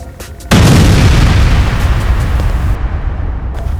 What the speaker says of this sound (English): The explosion echoed wildly among the lava homes.